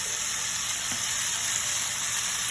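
New York strip steaks frying in a pan give off a steady, moderately loud sizzle with a bright hiss that holds evenly throughout, no voices over it.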